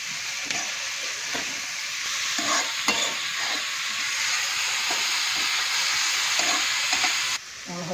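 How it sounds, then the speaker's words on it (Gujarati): Tomatoes roasting in a pan for Gujarati mag pulav, a dense close sizzle with repeated spoon scrapes and clinks of stirring, no voices. "ટમાટર પણ નાખી દઈએ"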